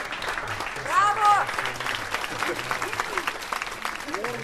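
Audience applause after a theatre performance: steady crowd clapping fills the background while voices talk and call out over it.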